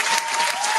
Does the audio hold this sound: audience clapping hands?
yes